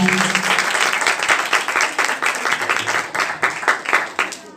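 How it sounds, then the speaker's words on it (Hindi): A church congregation gives loud, sustained applause at a Hindi-language evangelical service, dense clapping continuing steadily throughout with a faint murmur of voices underneath. "आइए खुदा उनके जलाल के लिए जोरदार तालियां बजाएं"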